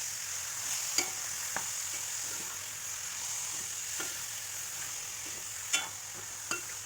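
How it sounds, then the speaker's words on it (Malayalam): Chicken parts coated in masala and salt stirred in a pan, a steady soft sizzle with a few sharp spoon scrapes and clicks scattered through, close and fairly quiet. "എല്ലാം നന്നായിട്ട് മസാലകളൊക്കെ അതിൻ്റെ എല്ലാ ഭാഗത്തും പിടിക്കുന്ന പോലെ ഇളക്കി യോജിപ്പിക്കുക."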